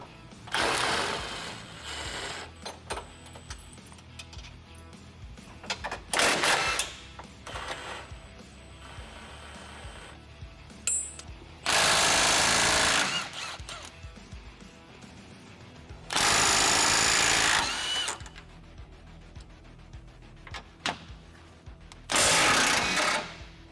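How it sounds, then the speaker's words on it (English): Hardware on the radius rods of a Kawasaki Teryx being loosened with 17 and 19 millimeter sockets and open-end wrenches, with several loud bursts of a powered ratchet or impact driver between quieter clicks and metallic clanks, close by. "loosen all of your hardware on your radius rods using the appropriate 17 and 19 millimeter sockets and open end wrenches"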